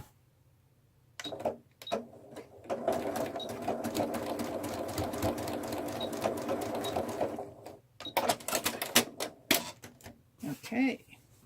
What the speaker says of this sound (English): when I put my needle down, I'm stitching backwards before I am forwards